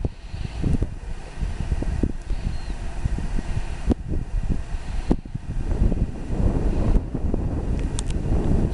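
Wind buffets a microphone outdoors on a hillside strewn with petrified wood along Route 66, a gusty low rumble with irregular thumps and surges throughout, close and fairly loud with no speech.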